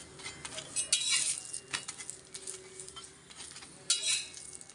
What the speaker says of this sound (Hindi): अभी ये घर का बनाया हुआ घी है, इसमें मैं अप्लाई कर रही हूँ